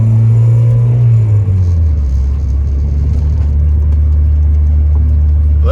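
A turbocharged Honda Civic's exhaust drones inside the cab as a loud, steady low rumble; its pitch drops early on and then settles into an even hum.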